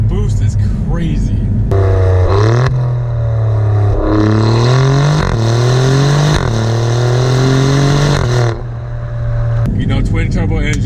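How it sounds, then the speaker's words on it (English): A twin-turbo Alfa Romeo Giulia Quadrifoglio engine revs hard and climbs through gears, its rising roar dropping briefly at each shift, loud and close throughout. "Twin turbo engine, you gotta wait for those turbos to spool"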